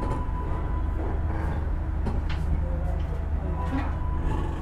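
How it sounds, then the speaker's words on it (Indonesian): Blambangan Express economy train pulling out of Jember station in Indonesia, a steady low rumble and rattle of the carriages heard from inside, continuous and fairly loud with faint background voices. "kereta api Blambangan Express diberangkatkan kembali dari stasiun Jember"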